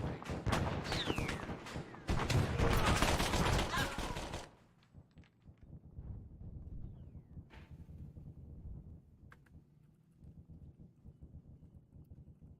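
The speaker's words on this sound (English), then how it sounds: "I want to say autocannon fire from like 207." Rapid autocannon bursts and explosive gunfire in the Arma 3 video game, dense and loud for the first four seconds, then sporadic distant shots and rumble trailing off.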